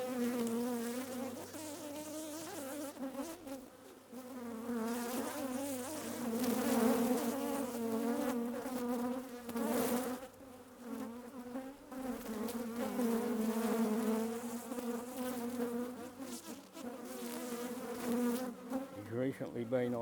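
Honeybees swarm around an urban hive, making a dense, continuous buzz of many wings that rises and falls in waves, close and fairly quiet, with no talking.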